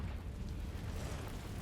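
A low, rumbling blast from the Confringo fire spell in the Hogwarts Legacy video game fills the short moment, dull and heavy without any talk.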